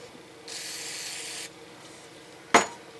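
A short hissing spray of carb cleaner aimed at a Quadrajet carburetor on a 1966 Chevy Biscayne, lasting about a second, followed after a pause by a sharp brief burst.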